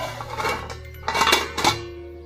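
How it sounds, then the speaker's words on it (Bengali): A lid set down on a cooking pot on a stove, a few light metallic clinks and rattles close by, with no talk. "এখন আমি ঢাকনা দিয়ে ঢেকে দিলাম।"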